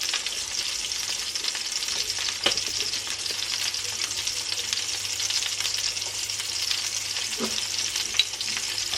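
Duck breast (magret de canard) frying gently in a pan, giving a steady, even sizzle with faint crackles throughout and a couple of small clinks, with no voices.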